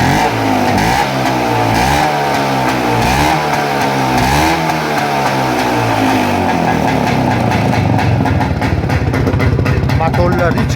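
An Izh Planeta 5 motorcycle engine revs hard in repeated rising and falling surges, then settles into a rough, fast-throbbing idle, loud and close throughout.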